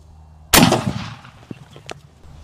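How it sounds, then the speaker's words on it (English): A 12 gauge shotgun slug fired into a small melon: a single loud, close blast with a long rumbling decay and a couple of faint splatter ticks after. "So we set up a little mini melon here that I'm gonna shoot with our 12 gauge slug."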